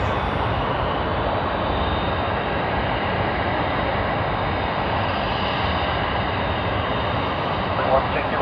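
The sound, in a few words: Qantas Airbus A380 landing at Sydney Airport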